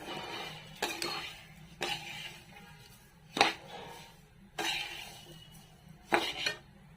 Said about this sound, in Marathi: चला तर आता आपण भाजून घेऊया लापशी भाजत आली आहेत आपली